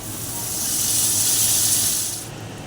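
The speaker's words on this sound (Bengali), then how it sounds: "এবার আমি জল দিয়ে দিচ্ছি।" Water poured into hot oil and spices for a Bengali pabda fish curry, a loud steady sizzling hiss that swells and then fades near the end, with no talking.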